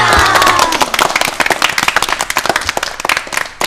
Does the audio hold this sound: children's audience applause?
yes